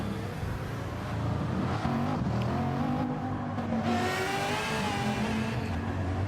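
Race car engines in a sim racing endurance championship, among them a hybrid Peugeot, rev and accelerate. The engines whine and climb steadily through several gear changes, loud and close, with no voices.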